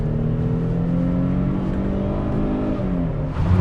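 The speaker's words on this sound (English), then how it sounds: "So before we hand the car over to Mark, let's just see how she goes. Second gear" A 2009 Mercedes CLK280 engine revs steadily upward accelerating in second gear, its rising whine smooth and close, with a louder surge right at the end.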